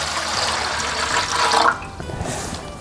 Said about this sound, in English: fill that thing up with a couple cups of water